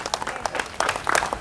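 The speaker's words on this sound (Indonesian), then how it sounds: "Berikan sorak-sorai buat Tuhan" A church congregation applauds and cheers in praise of God, a lively patter of many hands clapping unevenly, building slightly louder toward the end with a faint voice mixed in.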